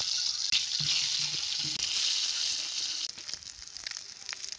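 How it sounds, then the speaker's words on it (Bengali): Boiled eggs frying in hot oil, a steady close hiss and crackle of sizzling that runs throughout, with a few faint clicks and pops. "এখন ডিম দিয়ে তেলের উপরে ভাজিয়ে লমু।"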